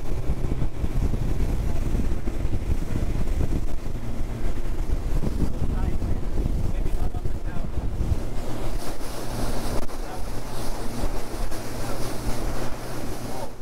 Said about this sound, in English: It is uncanny how much that sounds like a petrol engine.